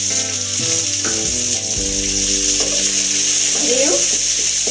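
Two large chopped onions frying in a pan for goat blood fry, a loud, steady close sizzle that fills the whole stretch, with faint stirring scrapes and a tonal hum underneath.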